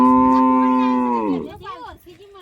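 A water buffalo on a Gujarati farm gives one loud, close, drawn-out moo that slides down in pitch and trails off into quieter rustling.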